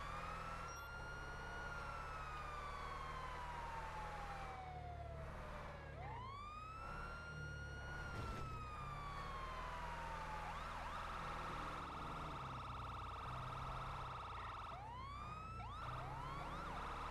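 Ambulance siren wailing during a code 3 emergency response in GTA 5, long rising and falling sweeps that repeat and switch to faster yelps, loud and steady over a low engine rumble.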